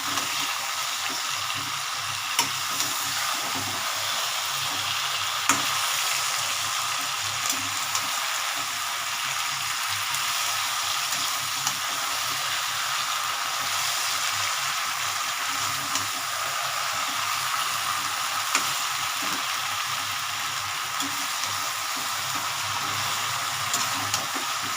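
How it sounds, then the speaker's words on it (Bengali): Fish-head and Malabar spinach curry sizzles and fries steadily in a pan while being stirred, with a continuous bright hiss and occasional soft scrapes and clinks throughout. "এবার নাড়া দিয়ে দিই"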